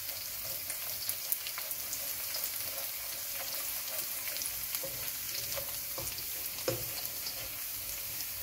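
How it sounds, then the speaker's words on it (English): Ginger and garlic sautéing in a pan for chili paneer, a steady, soft sizzle with faint stirring ticks throughout, no voices. "we're gonna go ahead and add our ginger and garlic in there. And we're just gonna saute it just a little bit."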